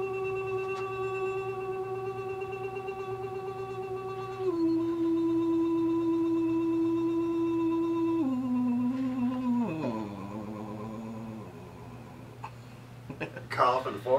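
A voice imitates a trolling motor with a long, steady droning hum that shifts pitch in stepped drops before breaking off into sputtering noises.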